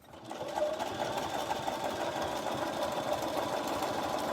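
A sewing machine runs continuously while stitching round along the edge of a row of stitching, a steady close mechanical whir after a brief start-up, with no talk.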